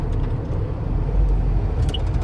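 Heavy road traffic heard from inside a moving vehicle on a highway past Surat: a constant deep engine and road rumble fills the cabin, steady and loud, with a faint high chirp near the end and no voices.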